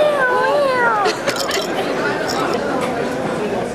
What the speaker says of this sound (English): Nice little Bengal kitties.